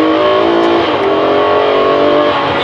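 A Ferrari 599 GTO engine revs hard and loud, a dense continuous roar held for a couple of seconds with slight rises and dips in pitch.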